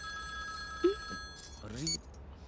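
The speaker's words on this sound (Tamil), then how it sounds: "உன் நம்பர்ல இருந்து கால் வருது." A mobile phone rings with an incoming call in a Tamil film scene, steady electronic ringtone tones sounding under voices that speak over it.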